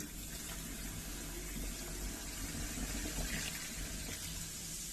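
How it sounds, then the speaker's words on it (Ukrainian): Liquid of hot water and soda pours steadily down a sink drain to clear it, a continuous rushing, gurgling flow lasting the whole stretch, fairly close and with no talking. "рідину виливаємо в раковину"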